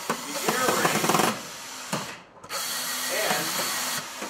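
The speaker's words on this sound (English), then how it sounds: "you simply reverse the rotation of your drill and place it on the inner screws, telescoping out the inner ring" A power drill drives screws into an adjustable 4-inch square-to-round device box cover, its motor whirring in short runs with a brief pause in the middle, close and loud.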